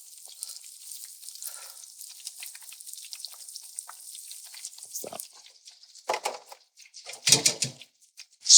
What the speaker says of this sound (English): just so the frying action starts to happen and they don't sink